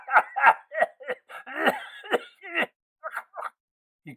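A man coughs and chokes in an audiobook performance, a string of harsh, rapid coughs and sputters, close and fairly loud, with a strained gasping middle section and short tailing coughs, a voice imitating the sound.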